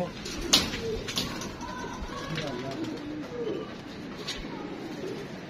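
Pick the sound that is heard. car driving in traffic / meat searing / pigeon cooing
pigeon cooing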